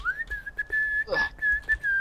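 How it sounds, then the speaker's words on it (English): A person whistles one long, steady, close tone with slight wavering, held nearly the whole time, while a brief muffled noise cuts in midway. "Stop whistling."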